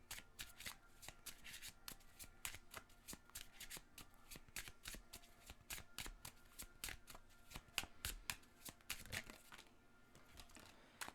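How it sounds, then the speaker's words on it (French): Oracle cards are shuffled and drawn by hand, making a long series of crisp riffling flutters and sharp snaps that repeat irregularly, close and fairly quiet, with no one talking. "on va aller chercher 3 cartes"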